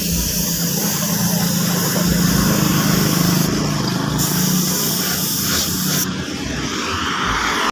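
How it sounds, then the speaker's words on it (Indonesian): A spray gun lays a clear coat over candy red paint: a loud, steady hiss over a droning motor runs close and unbroken throughout. "Ini setelah kering kita tutup, kita semprotir seperti ini."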